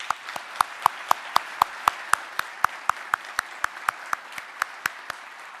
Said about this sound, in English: please join me in a final round of applause for our winners